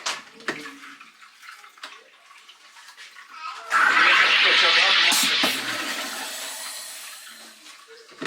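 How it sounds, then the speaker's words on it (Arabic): Water from a fountain splashes steadily in a home setting, a bright rushing spray that rises abruptly, stays loud for a couple of seconds and then eases, with a voice speaking before it starts. "ما تحبون صوت النافورة ادري بيكم مو؟"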